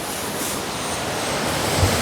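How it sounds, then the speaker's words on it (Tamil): Water spray from the Merlion fountain at Merlion Park on Marina Bay, Singapore, a constant broadband hiss and rush of falling water that stays loud and even throughout. "எல்லா இடத்துலயும் தண்ணி சாரல் அடிக்கிறது."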